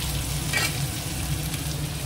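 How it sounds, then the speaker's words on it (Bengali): Steady sizzling of food frying in a pan, a continuous crackle throughout with a brief brighter hiss near the start. "একটু চেপে চেপে দিই, তাহলে এর ভেতরে ভাজাও হবে"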